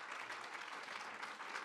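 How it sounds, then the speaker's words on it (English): Dinner guests at an honorary degree event clapping for a 1970 alumnus being honoured, a soft, steady wash of crowd applause with no talk, heard from a moderate distance. "yes, you can clap for him"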